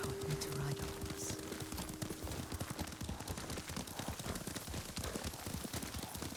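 Horse hoofbeats in Ghost of Tsushima, a rapid, steady galloping clip-clop close by, continuous throughout at moderate loudness.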